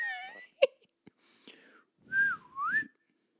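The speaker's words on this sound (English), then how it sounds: "You can whistle." A voice whistles in Mario Party 10: a falling whistled tone opens, then after a few clicks and a faint breathy stretch come two rising-and-falling whistled swoops, close and clear.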